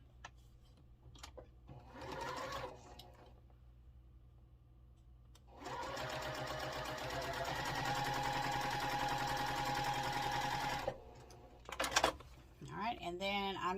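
A sewing machine runs while stitching a quilt strip set, first in a short burst and then in a longer steady whirring run. A voice talks briefly before and after the stitching.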